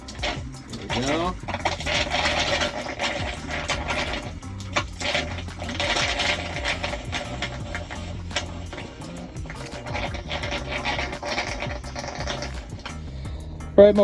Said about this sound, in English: All right, my water pump is still on.